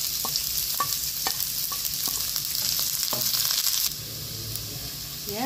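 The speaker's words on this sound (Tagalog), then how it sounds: "nakalagay na tayo na mantika, garlic, higisa ang garlic, onion" Garlic, onion and ginger sautéing in hot oil, a steady close sizzle and frying hiss with scattered stirring clicks, quieting slightly near the end.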